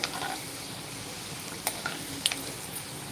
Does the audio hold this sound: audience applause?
no